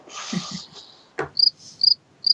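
Crickets chirp in short, bright bursts, three or four evenly spaced trills sounding close and clear after a brief rustle and a sharp thud.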